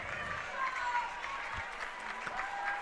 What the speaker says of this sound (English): a couple of the replacements for Southern getting a round of applause too